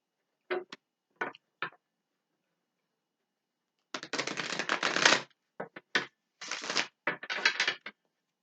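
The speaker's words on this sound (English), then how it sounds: "I think I'm going to take a card or two over these two kings also" Cosmic Tarot cards being handled and drawn: three short card snaps, then a longer riffle-shuffle burst and several quick shuffling flurries, close and crisp.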